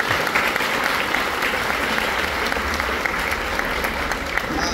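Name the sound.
audience applause for a film crew member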